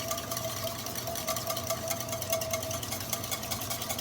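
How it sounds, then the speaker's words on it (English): A whisk beats a thick, buttery four-cheese mac and cheese sauce hard as egg is mixed in. A steady, rapid rasping and scraping churns close by without pause, with no voices. "now you definitely want to whisk it very vigorously"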